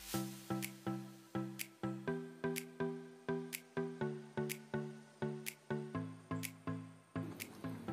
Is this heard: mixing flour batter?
yes